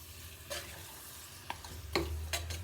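Italian Sunday sauce cooking in a pot, a faint bubbling simmer with a few soft clicks and taps of a utensil against the pot.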